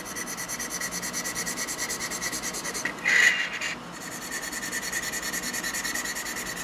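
Sandpaper lightly rubbing the hood of a Kato GP35 model locomotive, a steady, even rasping with gentle rhythmic strokes, close and continuous, with a brief brighter scrape partway through.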